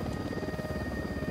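A helicopter in Ghost Recon Wildlands hovers nearby, its rotor producing a rapid, pulsing chop over a steady mechanical whine, moderately loud and continuous with no talk.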